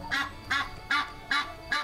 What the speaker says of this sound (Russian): Это голос гуся.